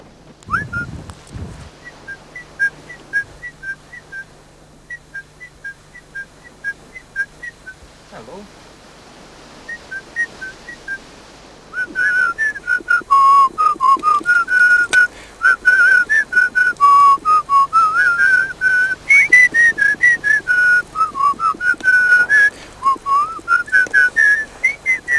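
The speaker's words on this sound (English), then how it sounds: "we discovered that whistling attracted Wilson storm petrels" A person whistles in the Antarctic to attract Wilson's storm petrels. Short repeated chirps come first, then a long, loud, wavering run of whistled notes. No one speaks.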